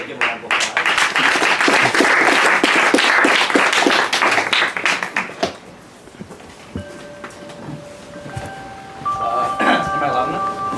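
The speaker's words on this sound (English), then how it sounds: "give him a round of applause" A crowd at a memorial event applauds loudly for about five seconds, then the clapping fades into quieter room noise with a few electronic tones and some talk.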